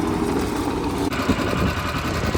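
A John Deere tractor engine runs at a steady, loud idle-like drone throughout, close by, with a brief dip in level partway through and no talk over it.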